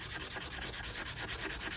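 Quick, regular back-and-forth scratching of light sanding, a rhythmic gritty rub repeating steadily and close up, as plastic from a Corgi Toys Ford Consul model is rubbed on a sanding pad.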